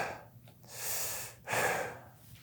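Someone breathes loudly through the mouth, two drawn-out airy breaths close up, each a breathy rush with a gasping quality, separated by a short pause and no speech.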